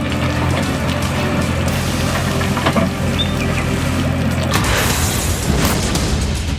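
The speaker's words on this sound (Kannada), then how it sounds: "JCB ಗರ್ಜನೆ ಶುರುವಾಯಿತು." A JCB excavator digs a trench for laying pipe, its heavy engine producing a loud, steady low rumble that shifts in tone partway through, with no voices.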